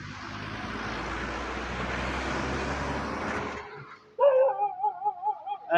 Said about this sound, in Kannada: ನಾಯಿ ಬಗಳ್ದುಂಟು